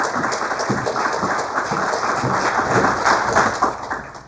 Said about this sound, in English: So please give her a round of applause as she joins us.